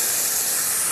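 Salmon coated in tikka curry paste sizzling in a hot pan, a dense, even frying hiss heard close up for about a second.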